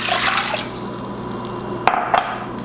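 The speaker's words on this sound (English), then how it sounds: "So now we're just going to pour in our water" Water pours into a jar of onions being packed for English pub-style pickling, a close, continuous splashing fill that ends in a couple of brief drips or glassy clinks.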